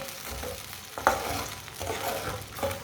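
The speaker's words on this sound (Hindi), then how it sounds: "चीनी को अच्छी तरह मिक्स कर लेंगे।" A spoon scrapes and swirls sugar into a little water in a pan, close and continuous with a few sharper knocks against the metal while making walnut laddu.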